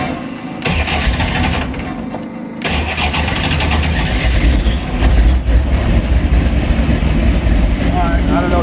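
A car engine cranks and catches after its fuel pump is switched on, then settles into a loud, rough, steady idle close by, with a voice faintly over the engine noise.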